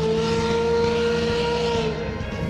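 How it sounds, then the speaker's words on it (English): A steady steam whistle at the University of Kansas blows continuously with layered tonal pitches over a broad hissing rush, holding loud and constant before easing slightly at the end. "Hearing the steam whistle at the end of class."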